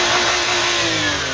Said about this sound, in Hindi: बाकी इंजन का साउंड भी अच्छा है